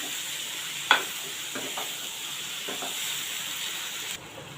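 Vegetable, likely padwal (snake gourd), stirred in a hot pan with soft scraping strokes over a steady low sizzle and hiss, close and moderately quiet, with a sharper clink near the start.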